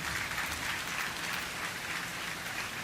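Sustained applause from the crowd at a Kendriya Vidyalaya award ceremony in Bilaspur, a thick unbroken wash of many people clapping, fairly loud and even from start to finish.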